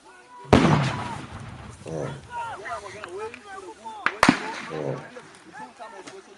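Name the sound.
gunfire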